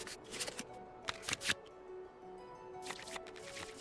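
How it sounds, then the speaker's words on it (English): Cards shuffled back into the draw pile in the Genius Invokation TCG video game: quiet, crisp riffling bursts in short clusters, with a faint steady tone between them. "we can select any number of cards in our hand to shuffle back into the draw pile, and then draw the same number of new cards"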